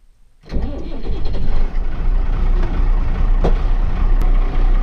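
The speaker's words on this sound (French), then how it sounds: "Ok, je viens de démarrer le tracteur." A tractor engine cranks and catches after half a second, then runs at a loud, steady, rumbling idle close by.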